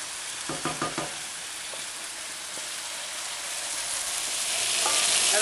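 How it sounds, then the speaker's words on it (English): Chicken pieces frying in a pan for tikka masala, a steady crackling sizzle with a few clattering stirs early on, the hiss swelling slightly louder toward the end. "Now they've been frying off, it's taken about 15 minutes."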